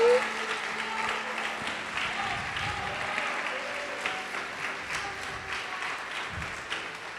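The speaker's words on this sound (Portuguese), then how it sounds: "Pode aplaudir e glorificar o Senhor." A church congregation applauds steadily throughout a sermon, dense clapping sustained at an even level with faint voices mixed in.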